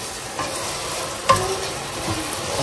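Goat meat curry stirred and fried in a pan, a steady soft sizzle with a brief louder scrape of the spoon midway, close and continuous with no talk.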